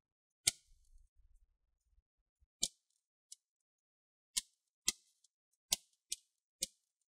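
Plastic clips on the bottom cover of an HP Pavilion 15 F series laptop snap into place as the cover is pinched shut, giving about eight sharp, separate clicks at irregular intervals against near silence.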